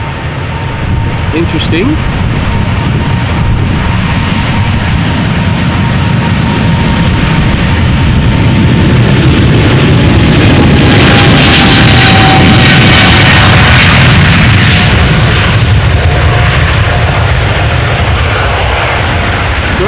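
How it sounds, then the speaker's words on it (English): Jet airliner engines spooling up at Amsterdam Schiphol, a loud sustained roar with a rising whine building toward the middle and holding, while a person briefly speaks over it. "WTF. They're spooling up behind me."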